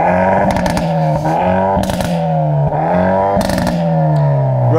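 A Hyundai i30N engine revs hard while parked, climbing in three or four loud, rising blasts with crackles and pops between them, close and dominating.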